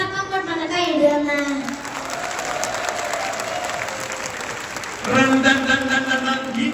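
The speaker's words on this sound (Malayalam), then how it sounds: "ഈ കൈയടി പോരാ ചാക്യാർക്ക്." An audience at a Chakyar Koothu performance claps in steady, dense applause, with a voice talking loudly over it at the start and again near the end.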